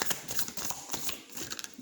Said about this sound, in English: I tried to keep shuffling.